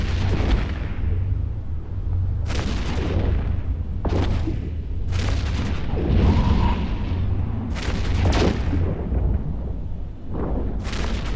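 Heavy booming explosions and thudding weapon fire as a Prophecy ship is destroyed by a pirate fleet in the space game EVE Echoes, several loud blasts in irregular succession over a constant low rumble.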